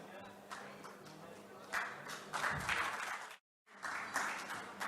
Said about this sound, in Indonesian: berikan tepuk tangan yang meriah buat Tuhan Yesus